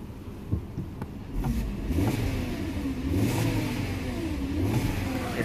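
A base-model car engine revs repeatedly up and down on a running idle, close and fairly loud, with rising and falling pitch sweeps and no talking.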